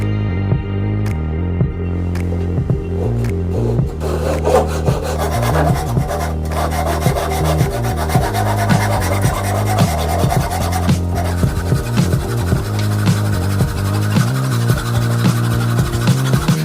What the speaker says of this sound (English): The first step that I did was to mark and cut the wood into 10-inch sections.